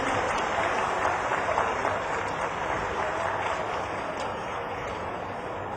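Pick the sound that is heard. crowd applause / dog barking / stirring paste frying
crowd applause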